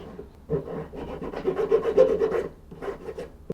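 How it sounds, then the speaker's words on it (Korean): Steady rasping of a hand file grinding down the thickness of a handmade metal jewelry ring's rim, strokes running close and fairly loud in a continuous stretch with a brief pause near the end. "여기서 여기 두께를 갈아 줄게요"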